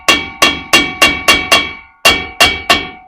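A hammer taps a new U-joint into the driveshaft yoke of a 2009 Chevy 2500HD pickup with an 8-foot bed, giving nine sharp metallic ringing strikes in a steady rhythm with one short pause, loud and close.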